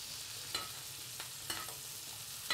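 A steak sizzles quietly in a pan while being basted, giving a soft, even frying hiss with a few light clinks spaced about a second apart.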